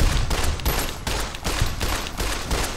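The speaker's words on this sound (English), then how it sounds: "One more shot. One more shot." Gunfire from the video game Fallout: New Vegas, a rapid run of loud, close shots firing in an even rhythm of about seven blasts, each sharp crack followed by a short booming tail.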